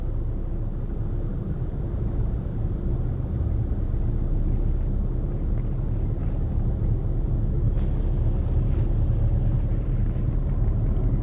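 Car engine droning steadily in second gear during a driving lesson, a low continuous rumble that stays close and even throughout with no talk over it.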